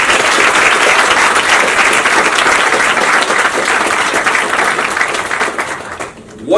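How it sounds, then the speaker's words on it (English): A large audience claps together in a loud, sustained burst of applause at an industry talk with students, holding steady before tapering off near the end. "Clap for that."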